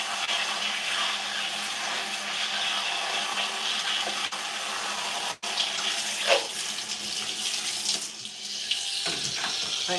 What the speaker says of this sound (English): Let's rinse out that conditioner.